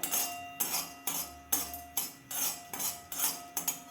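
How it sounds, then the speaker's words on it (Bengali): A spoon or spatula clinks repeatedly against a pan while cardamom, cloves and cinnamon are stirred dry, about eight sharp metallic scrapes and taps in a steady rhythm, close and fairly quiet. "প্রথমে এলাচ, লবঙ্গ, দারচিনিটা একটু নেড়ে নিই"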